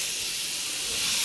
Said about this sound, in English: also tap working fine.